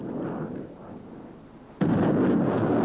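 MLRS multiple rocket launcher firing: a sudden, loud broadband roar that sets in abruptly partway through and holds steady over the rumble of a field setting.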